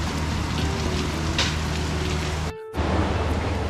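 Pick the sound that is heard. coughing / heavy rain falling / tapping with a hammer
heavy rain falling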